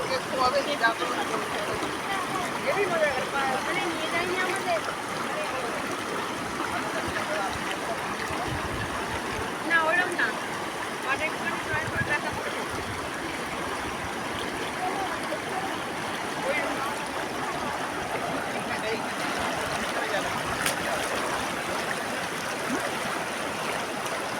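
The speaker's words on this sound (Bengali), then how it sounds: "এই দেখো জলের আওয়াজটা একটু শোনাই" A river rushes over stones in a steady, loud, broadband roar that continues throughout, heard close by along a mountain route in Nepal.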